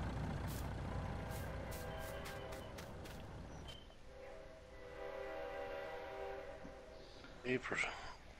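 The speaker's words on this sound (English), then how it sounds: "Is that train going by? Yes, it is." A train passes near a rural farm beside the tracks, a low distant rumble and rattle building under faint background noise, with a brief horn-like tone near the end.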